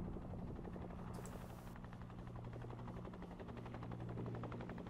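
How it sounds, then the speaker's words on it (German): Helicopter flying in a Fallujah PvP deathmatch video game, a steady continuous rotor drone filling the whole stretch without talk. "Ein Heli oder sowas?"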